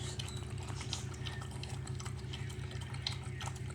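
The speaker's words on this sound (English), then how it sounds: "this water drinking is lasting for a lifetime" A dog laps water at a steady, continuous pace, the wet slurping clear but fairly quiet over a low background hum.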